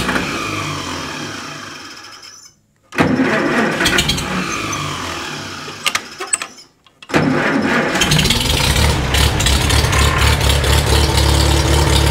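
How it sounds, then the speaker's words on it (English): A Farmall Super A tractor engine cranks, pauses, cranks again, then catches and settles into a steady loud idle; no talking over the starting attempts. "Well, it cranked good"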